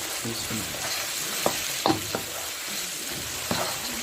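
Two ground red onions frying in a pan for Degi Aloo Gosht, a steady sizzle with a few clinks of a spoon stirring, close up and without speech.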